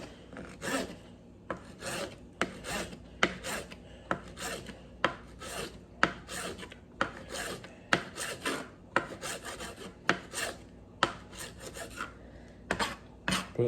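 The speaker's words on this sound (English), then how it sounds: "line up your chives all the way like this, like green onion, and just chop them all together like that." A knife chopping chives on a cutting board, heard as about twenty sharp, close strokes in an uneven rhythm, each a crisp thud with a rasping edge, over quiet room background.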